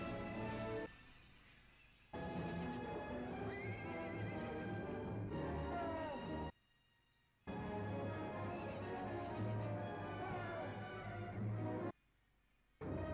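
Horses neigh and whinny repeatedly in loud, drawn-out calls, with brief silent gaps between bursts and hoofbeats clopping underneath.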